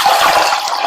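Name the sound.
water poured into cooking pan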